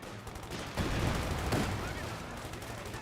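Gunfire striking a Grenadier garrison in Company of Heroes 2, a dense, continuous rattle of small-arms and machine-gun shots under a steady battle din.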